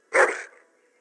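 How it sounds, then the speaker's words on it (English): One sharp, loud bark from a noble-looking dog in the fantasy game Dragon Age Origins, a single close yelp that fades quickly into silence. "That is a wonderful dog."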